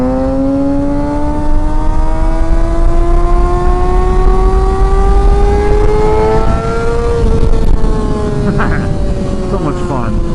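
Motorcycle engine pulling hard through a corner, its steady rising whine climbing in pitch for several seconds before easing off, loud and close throughout under constant wind rush.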